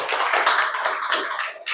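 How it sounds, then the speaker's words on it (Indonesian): A classroom of students clapping for a classmate, a short, bright burst of hand claps close by that fades quickly. "Tepuk tangan dulu untuk Nabil."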